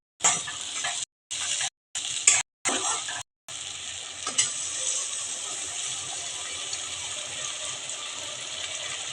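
Mustard-poppy spice paste with tomato fries in oil for a fish curry, a steady bright sizzle that cuts out in short gaps early on and then runs on continuously and close.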